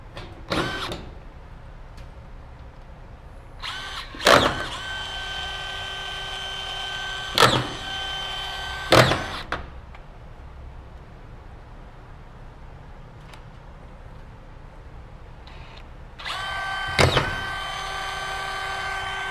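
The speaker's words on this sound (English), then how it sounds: "Now I'm going to finish screwing it off." Drill driving screws through drywall into wall framing: several short, close whirring bursts with a rising motor whine, separated by quiet pauses, ending in a longer run.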